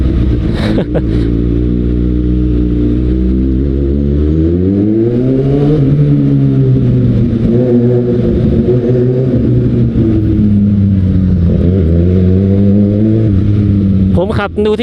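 A Kawasaki Ninja ZX-6R motorcycle's engine drones loudly and continuously from the rider's position, its pitch climbing and easing as the throttle opens and closes on the road.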